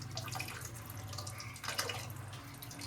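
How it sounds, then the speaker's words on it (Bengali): Cold tap water running into a kitchen sink as something is rinsed, a steady close splashing flow with a brief louder gush. "একটু ঠান্ডা জল দিয়ে ধুয়ে নিব"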